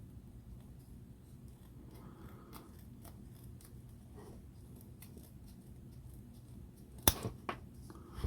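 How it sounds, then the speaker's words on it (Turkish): Quiet snipping as the scissors of a Leatherman ARC multitool work through a tough belt, faint at first, then a sharp cut and a few crisp clicks near the end. "Makasında size bir kemer keseyim."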